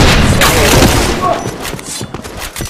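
Sniper rifle fire and gunfight bursts in a professional shooter video game match, Point Blank tournament semifinal, loud and dense with overlapping shots and thuds throughout.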